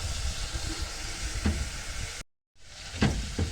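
Tomato sauce fries in a pan and gets stirred with a spoon, in Egyptian home cooking: a continuous sizzle with a few scraping strokes, broken by a short silent gap, with no voices.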